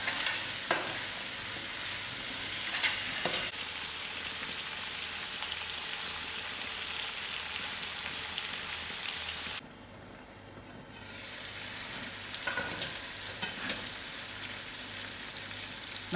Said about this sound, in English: I'll give this potato a good stir and allow it to fry for a little while